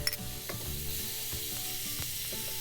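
Beef stock poured slowly into a hot pan for prime rib gravy, giving a steady close sizzle with a few soft clinks and stirring knocks throughout, no voices.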